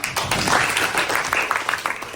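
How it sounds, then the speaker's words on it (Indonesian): Short burst of clapping from a small group in a classroom coaching session, uneven and close, with individual hand claps audible in a brief ragged rhythm. "Oke, tepuk tangan."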